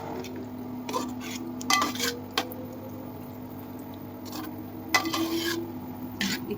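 Payasam with ghee is stirred in a pot, soft intermittent scrapes and clinks of a spoon against the metal over a faint low hum, quiet and close, without talk.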